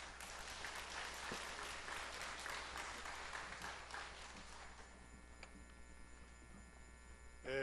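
An audience at a church seminar applauds after a prayer, a steady wash of hand clapping that thins out toward the end, fairly faint and distant.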